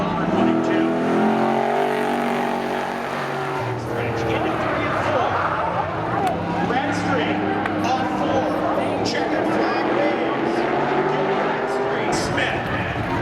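Drag racing cars, including a white Camaro, roar down the strip at Seekonk Speedway during a spectator drags event, engines loud and sustained while a commentator talks over them throughout.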